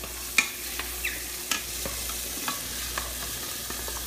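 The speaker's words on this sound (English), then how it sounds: "listen to the sizzle on your sausage" Sausage frying in a pan gives a continuous crackling sizzle close by, with a few sharp clicks and taps of a utensil stirring it at irregular intervals.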